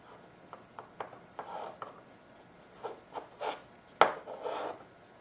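Bristle brush dabbing and scrubbing naphtha onto sculpted zombie teeth, a series of short, soft, close strokes in an uneven rhythm with one sharper scrape near the end.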